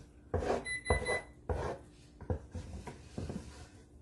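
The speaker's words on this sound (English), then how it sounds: "You take your spatula and get the rest of that out of there." A spatula scrapes thick peanut butter fudge from a heavy cooking pan, giving a series of close, firm scraping strokes in uneven bursts, with a faint high tone ringing through.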